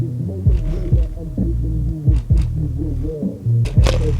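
Small objects on a desk rattle and buzz from an amplifier's bass during an amp repair test, with repeated low throbbing pulses roughly every half second over a steady loud hum.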